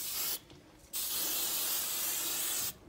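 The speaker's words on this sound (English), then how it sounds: "If I hairspray the junk out of this," Tresemme hairspray sprayed onto an item in two bursts, a short hiss, a brief pause, then a longer steady spray, close and alone.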